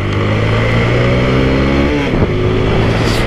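Apache RTR 160 4V motorcycle engine revving loud and close, with steady harmonic drone, a pitch drop and re-rise around two seconds as the throttle is worked, no speech.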